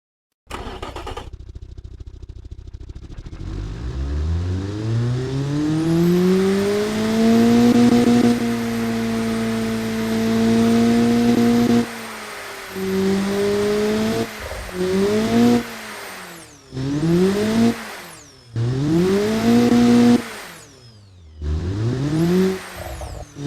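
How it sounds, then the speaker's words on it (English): A simulated turbocharged two-cylinder engine making 381 horsepower, loud and close: a long climbing rev to a sustained high drone, then a series of sharp rev bursts rising and falling with brief drops and whines between. "I did make it a 2-cylinder turbocharged engine. And it has 381 horsepower"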